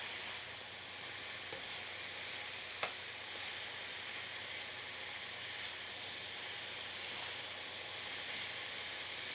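Steak juices sizzle steadily in a hot pan, a close, even hiss running for the whole stretch with one brief sharp click partway through and no voices.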